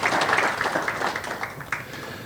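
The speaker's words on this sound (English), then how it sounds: "Please join me in a round of applause for their amazing efforts" Audience at a sports awards evening giving a round of applause to the event staff, moderate scattered clapping that slowly tapers off over about two seconds.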